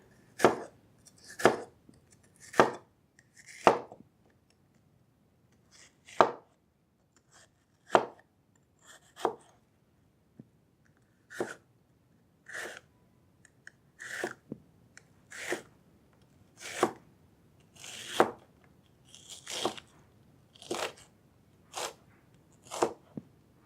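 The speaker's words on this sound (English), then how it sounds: "So we're going to chop some veggies." Vegetables are chopped with a kitchen knife on a board, probably an IKEA knife or a Japanese santoku, in about twenty crisp, separate thuds spaced at uneven intervals. The chops sound close and clear, with quiet between them.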